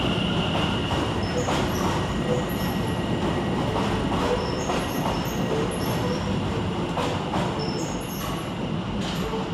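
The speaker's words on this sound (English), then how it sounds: "Next out to depart is 710-263 with the 1445 London Overground service to Cheshunt." A London Overground class 710 electric train pulls out of Liverpool Street station, a steady loud rumble of wheels on rail with high squeals and clicks running throughout, close by and with no voices.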